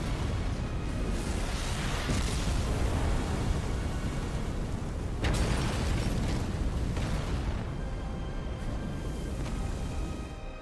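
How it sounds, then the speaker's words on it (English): Video game explosions boom and crackle one after another in a dense, loud barrage, with a sharp burst near the middle standing out from the continuous rumbling roar. "That thing's exploding on impact"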